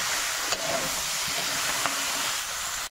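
Spices sizzling in hot oil in a pan for a Bengali pona fish curry, a steady close hiss with a couple of faint clinks from stirring.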